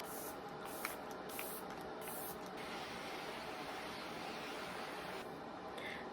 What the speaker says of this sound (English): I'm gonna go in with the setting spray